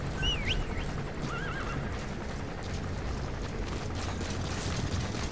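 Horse in Metal Gear Solid V: The Phantom Pain whinnies loudly twice over a dense bed of game ambience, with soft hoof clatter and mechanical rattling running throughout.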